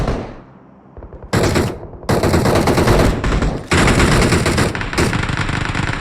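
Loud bursts of automatic gunfire in the mobile battle royale game BGMI, several sustained rapid volleys separated by brief pauses, heard close with no talk over them.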